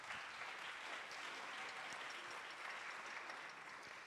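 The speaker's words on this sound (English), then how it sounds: "Now let's give them all a great round of applause." A church congregation applauds its volunteers during a Sunday service, a dense, steady wash of clapping from many hands that holds evenly throughout and sounds somewhat distant and soft.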